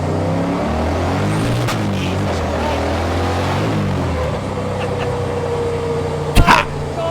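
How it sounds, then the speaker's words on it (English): A loud twin-turbo Subaru Justy engine revs up and down nearby with a rough, rumbling note, followed by a sustained drone and a brief sharp burst near the end. "A Subaru Justy should not sound on me like this"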